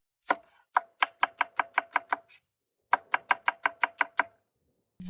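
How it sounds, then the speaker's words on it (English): A knife chops an onion on a board in two quick bursts of evenly spaced strokes, about eight or nine crisp taps each, separated by a short pause, close and clear with no talking. "Chop 1 onion."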